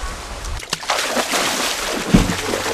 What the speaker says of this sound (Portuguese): dá um mergulho no mar